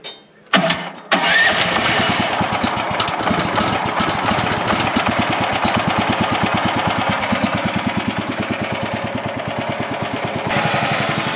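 A small gasoline engine on a nearly new sawmill, with fuel and choke on, fires with a sharp start and settles into a steady, loud, rapid chugging idle close by, running alone without voices.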